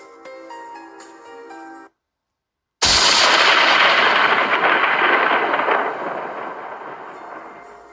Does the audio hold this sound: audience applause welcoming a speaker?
no